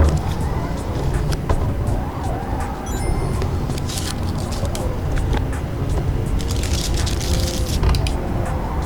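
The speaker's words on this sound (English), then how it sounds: "V6 turbo F1 style car." A V6 turbo F1-style race car screams around the Hakone circuit in Forza Motorsport, the engine droning continuously at high revs with gear shifts and a faint voice underneath.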